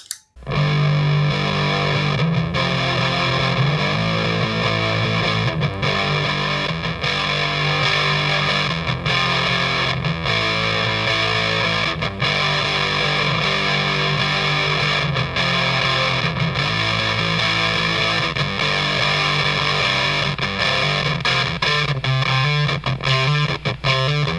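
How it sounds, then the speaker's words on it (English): A heavily distorted, gated vintage-style fuzz pedal on electric guitar plays loud and continuous, with choppy rhythmic stabs and sustained buzzing notes, no voices. "that gated, that sound that we all love on the vintage fuzzes."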